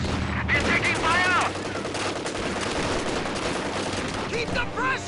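Rapid bursts of small-arms and machine-gun fire from a World War II battle in the strategy game Company of Heroes, loud and dense, with overlapping shots, game soldiers' voices calling out, and shouts in the mix throughout.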